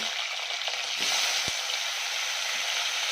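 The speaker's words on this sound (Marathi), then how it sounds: "तेल गरम झालं यामध्ये मिरच्या ॲड करूया" Green chilies fry in hot oil with a dense, bright sizzle that stays steady throughout, plus a brief thump near the middle, close and moderately loud, no speech.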